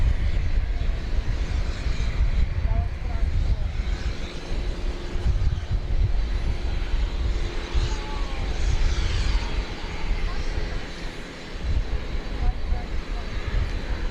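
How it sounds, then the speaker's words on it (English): An MD-11 at DFW Airport gives off a steady, rumbling engine roar at moderate distance, holding level with a slight dip near the end, while a voice speaks intermittently over it. "MD-11"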